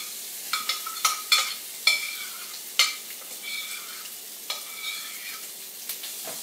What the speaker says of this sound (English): So now you're going to grill your shrimp.